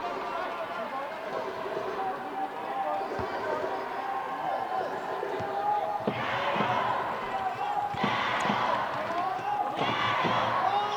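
A home crowd cheers at a men's wheelchair basketball game between Thailand and Singapore at the ASEAN Para Games, a steady roar swelling louder in the second half, with ball bounces and commentary talking over it.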